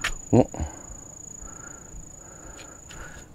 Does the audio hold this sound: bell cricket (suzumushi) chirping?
yes